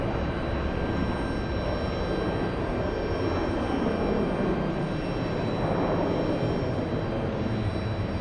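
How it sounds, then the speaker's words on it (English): A Boeing 767 taxiing to the gate at an airport, a steady broadband engine roar with a faint whine, continuous and moderately distant without a clear rise or fall, with no talking. "We have the 767 taxiing to the gate."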